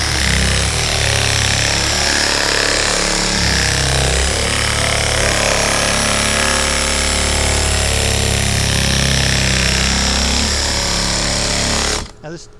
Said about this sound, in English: you can hear the air compressor in the background.